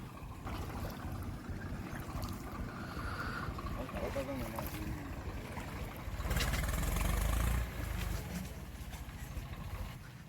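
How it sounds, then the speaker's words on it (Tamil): A tractor engine ahead on a forest track near Kuthirai Panchan falls, Panagudi, chugs with a low rumble that swells loudly for a couple of seconds, while people talk over it. "முன்னாடி ஒரு டிராக்டர் வேறு போகுது"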